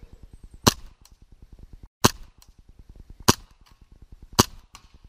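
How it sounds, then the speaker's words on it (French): A Tokyo Marui Hi Capa 5.1 stainless airsoft pistol fires four sharp, snappy shots about a second apart over a steady low mechanical buzz, BBs sent at a 20 meter target outdoors. "on va tirer quelques billes à 20 mètres, puis à 40, puis on va essayer à 60"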